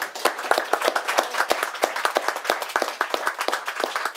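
An audience claps at a book presentation evening for a book about Pompidou, a lively, close patter of many individual hand claps in a fairly even, sustained rhythm throughout.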